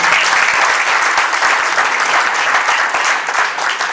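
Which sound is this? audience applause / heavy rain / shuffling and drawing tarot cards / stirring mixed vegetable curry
audience applause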